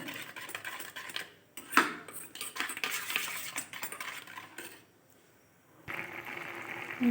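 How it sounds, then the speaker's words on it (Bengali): A spoon stirs chili and cumin powder into water in a small metal bowl, making light clinks and scrapes that come in uneven bursts. The stirring breaks off briefly near the end before starting again. "ভালো করে এটাকে মিক্সড করে নিতে হবে জলের সঙ্গে মশলাটাকে"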